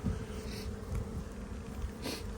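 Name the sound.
bees buzzing around an overwintering hive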